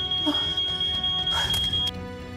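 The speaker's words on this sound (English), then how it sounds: "She grabbed matches and held them up to the sensor until the alarm went off." A smoke detector sounds a continuous high-pitched electronic tone that cuts off near the end, set against background thumps and faint movement sounds.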